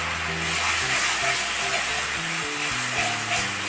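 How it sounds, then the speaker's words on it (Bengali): Cumin paste, onion paste, salt and turmeric sautéing in a pan give a steady, moderately loud sizzle and hiss that runs continuously throughout. "দিয়ে ভালো করে কষে নেব সব মশলাগুলো।"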